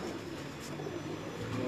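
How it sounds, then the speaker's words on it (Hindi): A Tam Tam pigeon among the Lahore loft birds coos faintly under nearby talking, its soft, low murmur barely rising above the background. "नहीं जी, ये टम टम कबूतर है"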